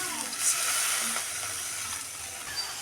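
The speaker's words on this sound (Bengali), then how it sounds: "এখন এখানে দিয়ে দেবো একটু পানি" Water is added to spices frying in a pan for rohu fish bhuna, bringing a steady, close sizzling hiss that holds evenly throughout with faint stirring underneath.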